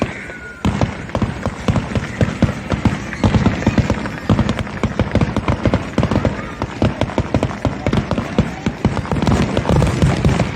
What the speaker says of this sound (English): a little fireworks action from Jenkinson's last night in Point Pleasant